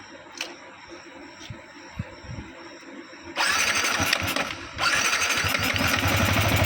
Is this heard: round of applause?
no